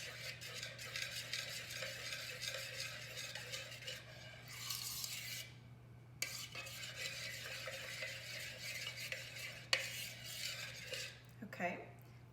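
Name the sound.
mixing spices for pumpkin bread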